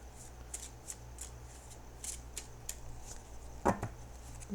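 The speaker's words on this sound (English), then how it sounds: "I'm going to shuffle and cut the cards now." Tarot cards are shuffled close and softly in a quiet room, a series of brisk riffling flicks and light taps in a loose rhythm over a faint low hum.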